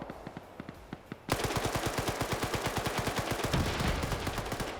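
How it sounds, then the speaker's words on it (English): PKM machine gun fire in an Arma-style military PvP match, heard as rapid sustained bursts. Lighter distant shots come first, then a loud close stream of evenly spaced rounds. "Doesn't dodge that PKM fire, though."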